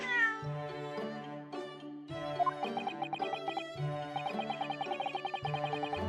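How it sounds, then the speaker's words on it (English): A cat meows repeatedly and plaintively in The Great Ace Attorney Chronicles video game, close and clear, with several drawn-out cries followed by a rapid run of pulsing, trilling meows. "They have a cat."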